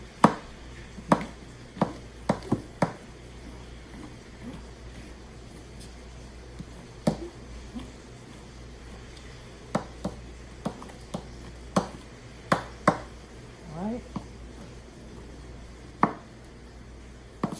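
A knife chops mushrooms on a cutting board in irregular bursts of sharp, close taps over roughly seventeen seconds, with short pauses between the runs of cuts and a low background hum.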